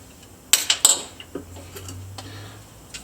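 Metal camping pans and the upper windshield of a Trangia spirit stove being set in place, giving a few sharp close clinks and clatters in quick succession, then a low steady hum.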